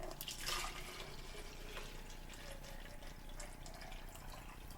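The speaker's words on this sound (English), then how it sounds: "I am going to take 2 cups of hot water and pour it into our bottle or spray bottle" Hot water poured into a spray bottle for a homemade cleaner, a steady running splash with a brief stronger gush near the start, close and alone.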